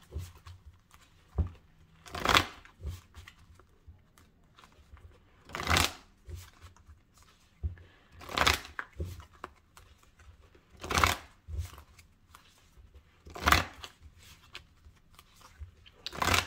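Angel tarot cards are shuffled close up in repeated bursts of crisp riffling and flutter about every three seconds, with quieter card handling and soft taps in between.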